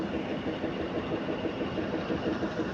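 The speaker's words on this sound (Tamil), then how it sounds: "மங்களூர் வண்டி வந்துருச்சுங்க" A Mangalore-bound train pulling into Karur station with its engine running, heard as a steady low diesel rumble and idle drone holding constant, fairly close, with no speech.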